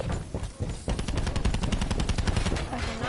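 Rapid automatic fire from a KN57 assault rifle in a first-person shooter video game, a steady stream of punchy shots in quick rhythm over a busy, dense game soundscape.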